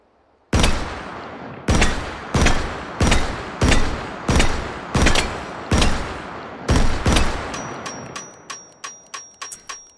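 A Pancor Jackhammer shotgun in the game Hot Dogs, Horseshoes and Hand Grenades fires about nine loud, evenly spaced booming shots, followed by a series of lighter metallic clicks and tinkling casings.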